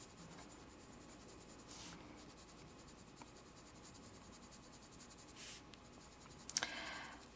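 Polychromos colored pencil layering on paper, a faint, soft continuous scratching and rubbing of the lead across the sheet, close up, with a few brief louder strokes and a small tap near the end.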